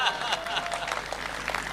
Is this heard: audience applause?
yes